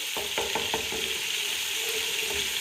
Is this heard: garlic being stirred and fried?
yes